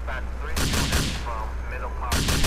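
Police open fire during a shootout in the video game GTA IV: The Lost and the Damned, with loud, close bursts of rapid gunfire in repeated volleys over a busy game soundtrack and a hint of voice.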